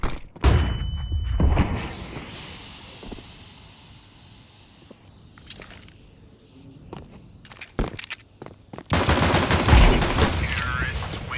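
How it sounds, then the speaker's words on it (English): A flashbang grenade going off in a first-person shooter game, heard as loud explosive bursts and gunfire-like blasts mixed with a lower rumble, with a brief quieter stretch between them. "I'm throwing the flashbang."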